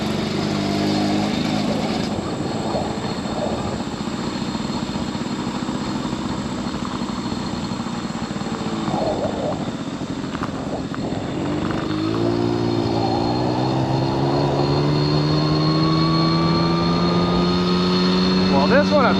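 A 1979 Honda Express moped engine droning steadily while being ridden, then revving up with a clearly rising pitch in the later part, loud and close.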